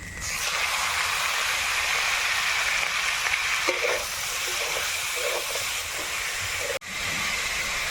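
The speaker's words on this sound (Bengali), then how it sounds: "এবার দেবো আদা বাটা আর রসুন বাটা একসঙ্গে আমি দিয়ে দিচ্ছি ধুয়ে রাখা চিকেন" Washed chicken goes into a pan of onion frying with ginger-garlic paste for chicken chowmein, giving a loud, steady sizzle and hiss with a few faint clatters and no speech.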